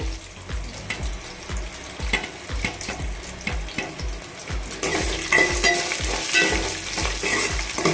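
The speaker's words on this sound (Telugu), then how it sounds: "తాలింపులు వేగుతుండగా" Tempering of green chillies and dried red chillies frying in a pan, with a steady close sizzle and rhythmic scraping strokes as a utensil stirs, and the frying grows brighter and louder toward the end.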